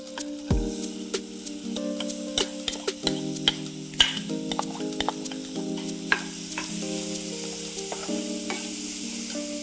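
Chopped onions hit a hot pan for pav bhaji and settle into a steady, close sizzle of frying that lasts throughout. Steady musical tones play underneath, and no one speaks.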